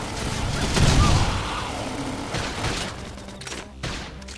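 Bursts of gunfire and booming impacts from a Xenoblade Chronicles X battle, loud at first and then trailing into scattered sharper shots amid combat noise.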